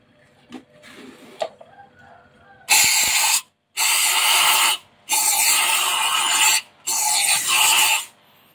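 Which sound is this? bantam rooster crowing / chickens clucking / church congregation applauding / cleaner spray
cleaner spray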